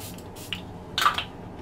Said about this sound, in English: Probably just gonna spray my face with this.